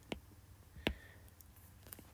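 A stylus writes on an iPad screen in a drawing app, making a few soft, quiet taps and light scratchy clicks spaced out over a couple of seconds.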